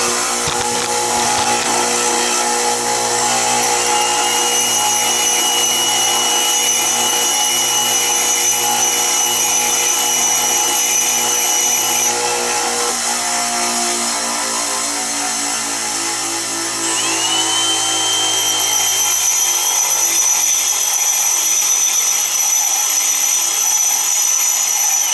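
A bench grinder whines at steady speed while a TIG welding tungsten electrode is sharpened against the wheel, with tonal hum and bright grinding hiss throughout, loud and close, shifting in pitch as the tungsten is pressed on and the motor winds down.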